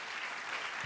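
A brief burst of audience applause for a production team, a dense wash of clapping from a crowd that stays even throughout.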